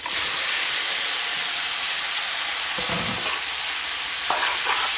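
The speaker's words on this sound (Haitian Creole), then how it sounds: "On va mettre viande dans la chaudière" Meat dropped into a hot pot for jute-leaf lalo, a loud, continuous sizzling hiss close by, with a few soft clinks of stirring.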